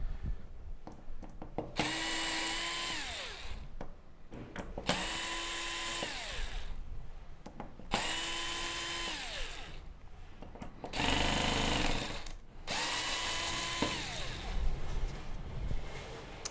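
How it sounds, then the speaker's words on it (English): A power screwdriver whirs in repeated bursts of a few seconds each while backing screws out of a Samsung UN65JS9000F TV main board, loud and close with short pauses between. "we can remove the screws, and that should be the main board away from the chassis"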